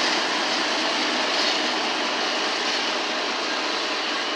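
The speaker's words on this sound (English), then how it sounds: "This is the empty fertilizer Gola train." An empty fertilizer freight train passes at Roseville, California, its broad, steady roar of rolling wagons filling the air continuously and loudly without a break.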